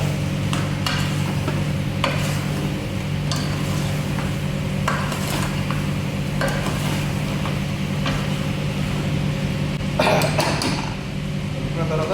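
Chicken curry is stirred in a pan with a spoon, giving repeated scraping strokes over a steady background hum, close by, with a soft sizzle underneath and no speech.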